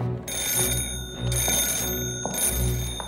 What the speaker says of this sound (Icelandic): það er síminn þín